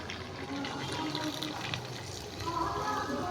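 Warm water poured into a pot of cooking goat meat and potatoes, a close gushing pour that swells and splashes against the simmering contents.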